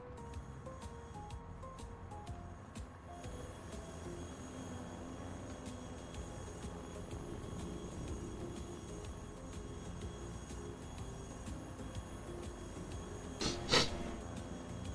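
Train running in the Worldwide Rush video game, a steady rumbling rail sound with clattering and a brief squeal of wheels near the end, continuous and moderately loud with no talk.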